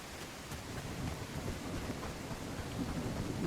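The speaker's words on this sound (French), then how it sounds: "Ah bah il pleut" Steady rain falls in the medieval game Bellwright, a soft, continuous wash of droplets with low rumbling underneath, fairly quiet and unbroken throughout.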